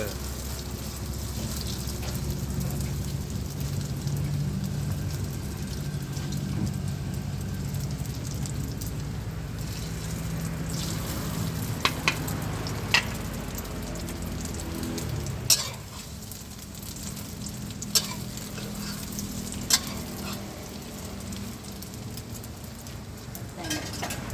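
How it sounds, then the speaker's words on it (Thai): An omelette with moringa flowers fries in a pan, giving a soft, continuous sizzle with occasional sharp clicks and taps of utensils, moderately quiet throughout. "ตอนนี้จะทอดแล้วนะ"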